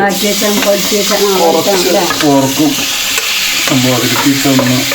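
Pork sautéing in a pan for an Ankamali-style pork and koorkka dish, a steady loud sizzle with stirring scrapes throughout, while a voice sings or hums over the frying.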